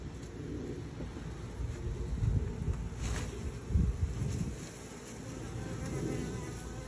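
A dense, steady buzzing of many honey bees close by, swelling and fading slightly, with some rustling and handling noise as a hive is extracted from a camper.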